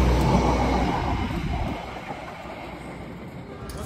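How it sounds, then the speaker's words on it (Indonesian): Argo Parahyangan passenger train from Bandung bound for Gambir, at Purwakarta station, rumbling loudly and steadily close by, the roar slowly easing over a few seconds with no talk. "pas kita tiba tadi langsung bertemu dengan kereta api Argo Parahyangan dari stasiun Bandung dengan tujuan akhir stasiun Gambir"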